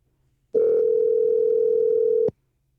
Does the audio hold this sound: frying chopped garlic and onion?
no